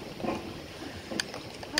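Kayak paddling on open water on a trip in Mexico: soft watery swishes and a couple of sharper splashes from paddle strokes, fairly close, over a low background wash of wind and water.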